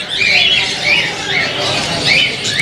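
Budgerigars squawk in rapid, overlapping bursts close by at the Saddar exotic bird and animal Sunday market in Karachi, a constant shrill chatter with a busy crowd murmuring underneath.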